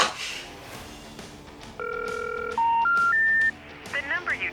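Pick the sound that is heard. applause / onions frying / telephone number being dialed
telephone number being dialed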